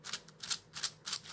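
Layers of a YJ Yufu V2 M 7x7 magnetic puzzle cube turning in quick succession, giving four crisp, clacky bursts in a steady rhythm, close up and alone.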